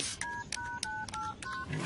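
A telephone number is dialed on a college phone line: a quick series of distinct keypad tones, about six short beeps spaced irregularly over a faint background hiss.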